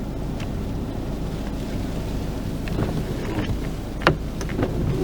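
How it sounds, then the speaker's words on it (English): Strong blizzard wind buffets the microphone on Glenshane Pass at night, a steady roaring rush beside a parked van with a few sharper gusts near the end; no one speaks. "I want to go out and get the sound effects of the wind."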